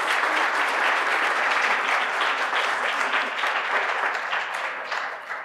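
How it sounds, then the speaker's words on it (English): Steady audience applause for a panel at a climate and environment event, a dense wash of clapping that holds strong and then starts to fade toward the end. "All right, one more round of applause for our panelists."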